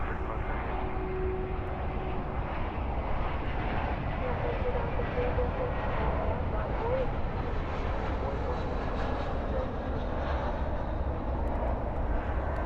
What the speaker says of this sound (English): We have an A321 currently arriving from Cancun, flight 2652, now on short final here.